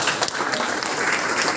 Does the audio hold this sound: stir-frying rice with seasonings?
no